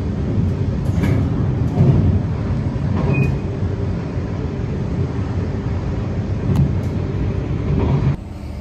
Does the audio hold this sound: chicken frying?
no